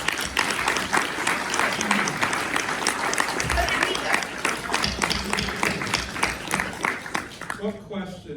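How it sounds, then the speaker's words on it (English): A conference audience claps steadily and loudly for several seconds. The applause is dense and even and trails off at the end. "Will you give her a round of applause?"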